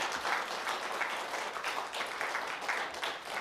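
Congregation applause during a Sunday church service, moderately quiet steady clapping from many hands with a rippling, uneven rhythm.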